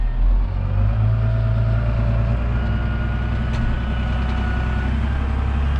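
A four-wheel-drive tractor carrying a one-tonne front ballast warms up on a compacted field as it sets off. Its engine holds a steady, deep, close rumble with a faint higher whine on top.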